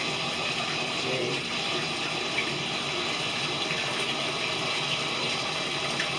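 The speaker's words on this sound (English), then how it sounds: "I want to add more water, but not as hot." Water pours steadily from a tap into a bathtub being topped up, a constant broadband rush that stays close and even throughout with no pauses.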